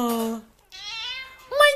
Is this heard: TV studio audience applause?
no